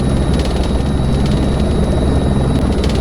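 Steady, loud helicopter rotor and turbine drone from a desktop flight simulator game, a continuous hum with faint rhythmic blade pulsing throughout the three seconds while the aircraft settles for a slow landing.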